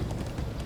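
Horses gallop in the video game Minecraft: Story Mode, a dense, steady clatter of hooves over a busy low rumble, close and continuous throughout.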